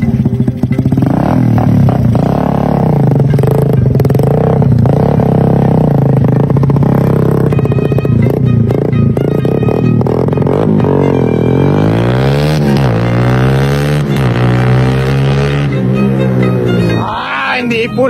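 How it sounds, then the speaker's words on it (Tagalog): A Suzuki Raider motorcycle engine roars loud and close at high RPM, holding a raspy drone before climbing in several steep revs, with faint voices now and then underneath. "Kasi pag nag-high RPM ka na, yung power pad, ayan yung Raider."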